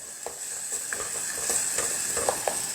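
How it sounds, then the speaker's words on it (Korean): Garlic, chili powder and salted shrimp stir-frying in a pan for beef brisket soft tofu stew, a steady hiss of sizzling oil broken by scattered scraping stirs of a utensil against the pan. "마늘 살짝 볶다가 고춧가루 볶고 그 다음에 새우젓 들어가고"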